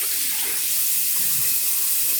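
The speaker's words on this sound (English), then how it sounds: "So I'm gonna rinse out my face and feel around for any spots that I may have missed." Tap water runs steadily and fairly close while a face is rinsed after a straight-razor shave, a continuous broadband splash and hiss with no talking.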